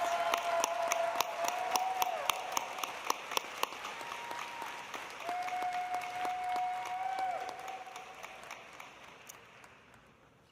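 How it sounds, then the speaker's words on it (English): Sustained applause from a large commencement ceremony crowd, dense clapping that gradually thins and fades toward the end, with a faint steady tone running underneath. "Let's give these remarkable students a big round of applause for their hard work and accomplishments."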